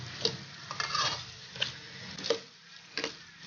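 Ginger, black pepper and green chilli fry in oil for ven pongal, a soft sizzle under several sharp spoon taps and scrapes against the pan.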